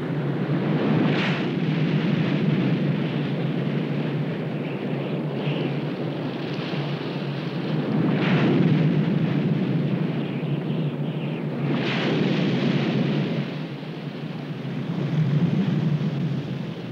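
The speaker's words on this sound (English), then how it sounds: "the gale winds continue to blow" Strong wind roars steadily and loudly throughout, with gusts swelling and buffeting every few seconds, no voices.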